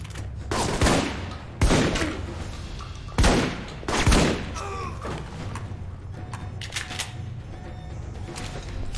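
Shotgun and pistol fire in Alpha Protocol: several sharp, loud shots spaced irregularly over a few seconds, followed by quieter scattered impacts and background game noise.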